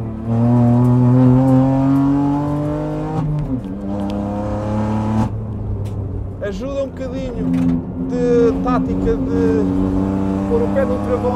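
A Kia Picanto on a wet race circuit is driven under throttle, its engine loud and close, rising and falling in pitch as the revs change, with sharp bursts of mechanical noise in the second half.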